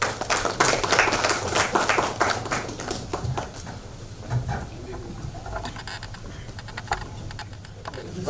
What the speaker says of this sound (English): So let's give him a huge round of applause